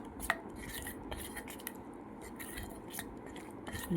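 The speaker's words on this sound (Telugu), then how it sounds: "ఇలా మొత్తం కలుపుకోవాలండి." A spoon clinks and scrapes in a small bowl while a homemade face pack with raw milk is stirred. The sound is faint, close and continuous, with light irregular taps and no talking.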